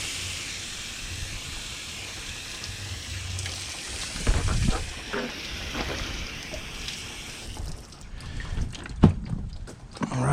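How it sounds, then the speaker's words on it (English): A garden hose sprays water to rinse a fish filleting table, giving a steady hiss with splashing that grows rougher and more irregular toward the end, with no talk over it. "now that I've got the table all rinsed off"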